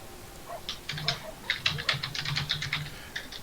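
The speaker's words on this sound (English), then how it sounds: "Furious typing continues as we end the stream." Fast, furious typing on a computer keyboard, a dense close run of clicky keystrokes in irregular bursts with no voices.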